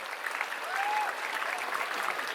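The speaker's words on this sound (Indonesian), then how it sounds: "Tepuk tangan hadirin sekalian." An audience claps at the opening ceremony of the Bali Arts Festival, a soft, steady wash of applause lasting a couple of seconds, fairly distant.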